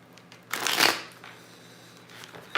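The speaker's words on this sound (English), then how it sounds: "So let me shuffle up and see" Tarot cards are shuffled close by during a live reading, with one quick riffling burst followed by a quieter stretch and then a second short shuffle at the end.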